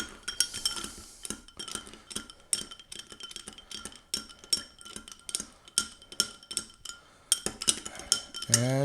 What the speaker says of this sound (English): I give it about 20 stirs.